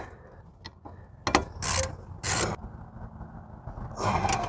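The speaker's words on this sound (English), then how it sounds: "And then we get our ratchet with a 15 mil socket on it." A ratchet with a 15 mm socket tightens brake caliper bolts on a Ford Flex during a brake job, with a few sharp clicking bursts and scraping mechanical noises close by.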